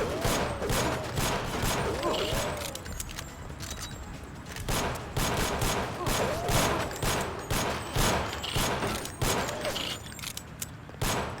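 Gunfire in the video game Deus Ex rattles in repeated rapid bursts, loud and close, broken by short pauses throughout.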